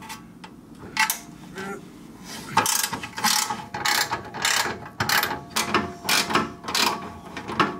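Ratchet wrench clicking in repeated bursts while loosening 12mm skid plate bolts under a Subaru WRX, the quick pawl ticks close and clear with short pauses between strokes.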